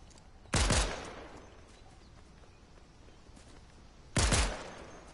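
Two sharp gunshots crack out in the video game Fortnite, a few seconds apart, each loud and close with a short decaying tail over a quiet background.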